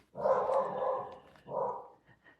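Dogs bark indoors at moderate distance, two distinct barks with a short gap between them. A couple of faint yips trail off at the end.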